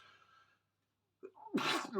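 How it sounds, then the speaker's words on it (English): A single sharp sneeze bursts out after a brief silence, close and loud, preceded by a quick intake of breath. "Oh, I sneezed"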